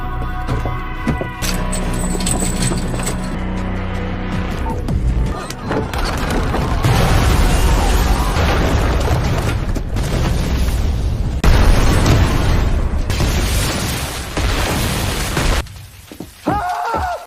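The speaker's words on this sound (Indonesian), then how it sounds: "tidak hanya kuil saja yang meledak" A loud, sustained explosive rumble as a temple blows up, with crashing and shattering debris, dense and roaring for several seconds before tapering off abruptly near the end.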